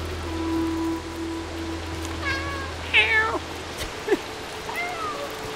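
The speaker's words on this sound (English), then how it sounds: "Why am I meowing? I have a meow button." The cat in the video game Stray gives a few short meows over a low steady hum and faint watery background, moderately close.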